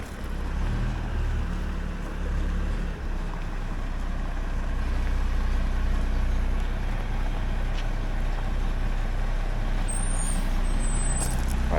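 A Buffalo MRAP 6x6 mine-clearing truck rumbles steadily with a deep, continuous engine drone close by, with a faint hiss of air brakes near the end.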